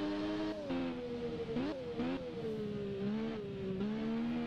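A Triumph Daytona 675 three-cylinder motorcycle engine in a racing game, a loud close revving whine that climbs and drops through quick gear shifts, steady with no talk.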